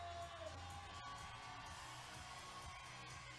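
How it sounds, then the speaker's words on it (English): A packed crowd cheers and roars steadily for a climber at the 2019 Climbing World Cup, the dense, continuous noise filling the hall with faint voices mixed in. "making an awful lot of noise here for Che Yun-soo"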